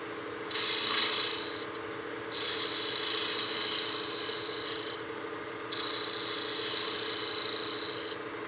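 A half-inch spindle gouge cuts a small bead on a wood lathe, a steady whirring scrape that starts and stops in three long passes over the hum of the spinning lathe.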